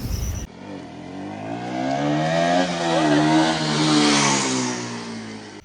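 A Bajaj Pulsar RS 200 BS3 motorcycle engine starts and idles, then revs up with a steady, loud single-cylinder drone that swells and holds close by, with no talking over it.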